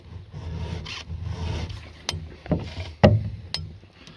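A hand file rasps against the cutter of a square-ground chainsaw chain, giving close, steady scraping strokes for the first two seconds, followed by several sharp metallic clicks and taps, with no talking.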